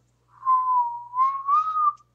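A person whistles alone in a quiet room: one sustained, wavering tune of about two seconds that dips and then climbs slightly toward the end, clear and close, with no talking.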